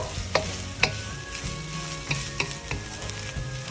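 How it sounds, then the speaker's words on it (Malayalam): A mushroom thoran stir-fry for a Kerala-style dish is stirred in a pan, with a soft sizzle under repeated sharp scrapes and clicks of a spoon against the metal. "എന്നിട്ട് നന്നായിട്ട് ഇങ്ങനെ മിക്സ് ചെയ്യുക."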